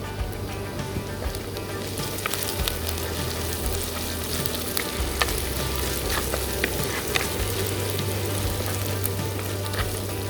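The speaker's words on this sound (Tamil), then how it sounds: "நல்லா வதங்க விட்டுட்டு வெங்காயம் வதங்குறதுக்காக லைட்டாக உப்பு போட்டுக்கலாம்" Finely chopped shallots sauté with a pinch of salt in a pan for a millet kozhukattai dish, giving a steady, close sizzle with scattered crackles and occasional stirring scrapes, no voices.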